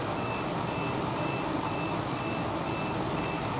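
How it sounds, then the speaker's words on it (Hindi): A UPS with its battery running out, giving a steady train of evenly spaced electronic beeps over a constant loud background hum, with no talking. "ये इस वजह से है कि यूपीएस भी ख़त्म होने लगा है"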